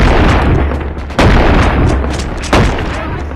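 Two loud, booming shotgun blasts from the video game Animal Company, about a second and a half apart, each a sharp broadband crack over a constant low rumble of game background noise.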